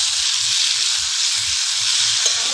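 Diced papaya frying in a pan with ground kulekhara leaf paste, a loud steady sizzle with a soft rhythmic scraping of the spatula as the mixture is stirred.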